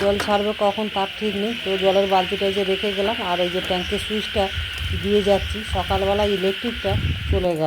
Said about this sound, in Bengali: কেমন ঝিঝি পোকা ডাকছে দেখো